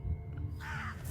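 A crow caws once in the horror game True Fear: Forsaken Souls, a drawn-out, harsh call rising over a low, steady ambient rumble.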